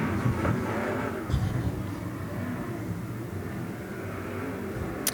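Sprint cars in a Desert Sprint Car Series heat race, a steady roaring wash of several engines at a distance, fairly loud and continuous with crowd-like ambience.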